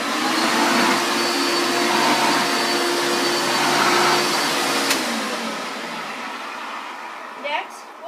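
A Hoover Caddy Vac handheld vacuum cleaner runs loud and close with a steady whining motor hum, then winds down near the end, followed by a brief clatter.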